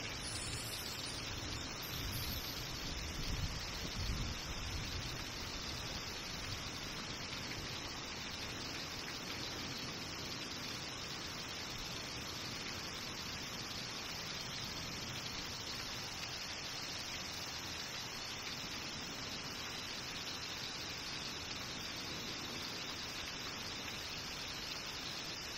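Heavy downpour during a flash flood in Stark County, Ohio, a dense, unbroken hiss of rain pounding surfaces nearby, slightly heavier at the start and then steady throughout.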